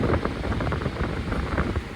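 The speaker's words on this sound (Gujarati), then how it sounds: "अपन का ये कूलर चालू हो गया है, वीआईपी कूलर" A repaired VIP air cooler runs and blows cold air, a close, steady whooshing rush of fan airflow with a slightly fluttering level and no voices.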